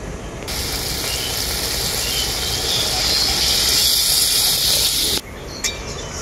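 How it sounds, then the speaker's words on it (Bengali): Water poured into frying spice paste for a tilapia fish curry sets off a loud, steady hiss of steam and sizzling that cuts off abruptly near the end. "এখন মশলার মধ্যে দিয়ে দেবো পরিমাণ মতো জল"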